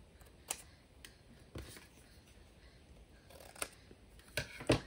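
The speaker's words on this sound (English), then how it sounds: "So we'll cut these two pieces out." Scissors cutting pieces of 12x12 craft paper, a few quiet, separate snipping crunches spaced over a few seconds, getting closer together toward the end in a quiet room.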